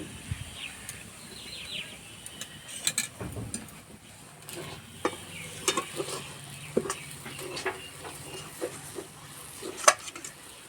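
Ghee goes into a pan of cooking sabudana laddu mixture, which gives a faint, low sizzle broken by intermittent scraping and knocking of a spoon against the pan, quiet and close, without speech.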